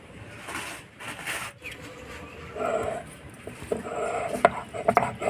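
Green chillies, garlic and ginger ground together by hand for dhaba-style chicken masala, heard as uneven scraping, rubbing and knocking strokes close by, growing busier and sharper toward the end.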